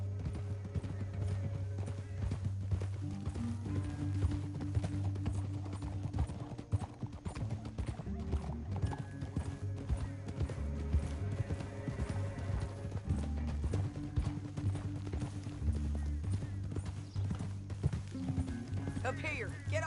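Horses galloping in Red Dead Redemption 2, a steady rhythmic clip-clop of hooves running throughout, with game music and characters talking over it.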